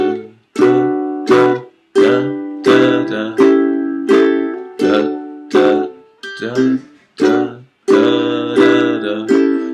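An acoustic guitar strums the chord round of a song's verse, with a steady even downstroke on every beat, a dozen or so ringing chords cut short between changes, played close and alone.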